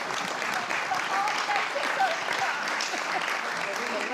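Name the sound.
audience applause for a harp performance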